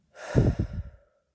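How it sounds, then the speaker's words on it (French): A single deep breath followed by a slow, audible exhale during a guided meditation, close and soft, with nothing else around it. "Respirez profondément et soufflez."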